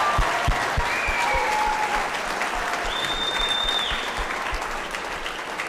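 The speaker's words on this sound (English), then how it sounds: "I'm going to ask for one more round of applause to Mrs. Bentz and Mrs. Boyd" Applause from an audience at a 2022 poetry slam charity event, a sustained, even round of clapping from a sizable crowd with a few cheers and whistles rising over it.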